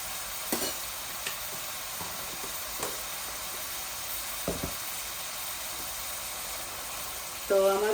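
Homemade ginger garlic paste frying with chicken liver in a pan, a steady close hiss and sizzle with a few stirring scrapes, alone with no talk.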